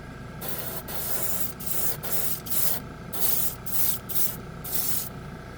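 An airbrush gun sprays acrylic paint in a steady close hiss, broken by a series of short pauses as the trigger is released and pressed again.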